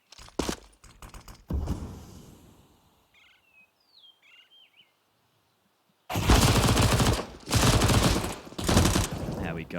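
Bursts of SMG fire in a Counter-Strike pro match on Inferno, loud rapid volleys at the start and a dense stretch near the end, with a quieter gap carrying faint bird chirps.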